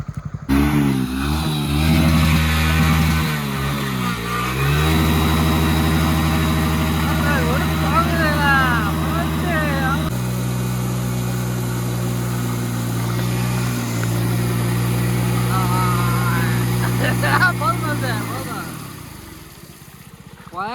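A Hero motorcycle engine runs steadily at close range beside Kombai river, its low droning hum sustained throughout while people talk over it.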